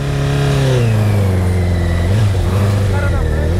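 A Honda CBR1000 motorcycle engine drones loudly and steadily, its pitch dipping and rising slightly as the throttle shifts, with talk mixed in; the bike is dying.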